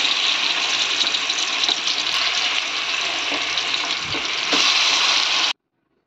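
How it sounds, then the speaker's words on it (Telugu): Fish pieces frying in hot oil in a kadai, a loud, steady crackling sizzle with a few stirring knocks, cutting off abruptly at the end. "ఇలా కళాయిలో నూనె పోసుకొని వేడెక్కిన తర్వాత చేప ముక్కలు అన్నీ కలిపి ఇలా వేసుకోవాలి"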